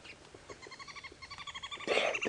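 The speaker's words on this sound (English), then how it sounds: "I can hear some other bird species around" On an early-morning African safari drive, a wild bird gives a rapid run of high, evenly spaced chirping notes that speed up, ending in a louder harsh burst, close and clear over quiet surroundings.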